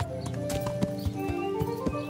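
Horses at a horse trader's in Kingdom Come: Deliverance give off rhythmic hoof clip-clops on hard ground, close and moderately loud, amid faint ambient tones of the game.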